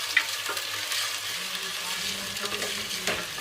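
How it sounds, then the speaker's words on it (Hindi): Whole cumin seeds frying with sliced onions and potatoes for namkeen aloo seviyan give a steady, close sizzle, broken by a few scraping stirs of a spoon in the pan. "इसकी बुनाई करेंगे और इसके साथ ही मैं इसमें शामिल कर दूँगी ज़ीरा"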